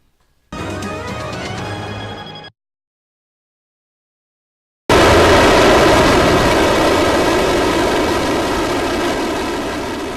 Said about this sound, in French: Test d'un nouveau moteur de fusée en Corée du Nord.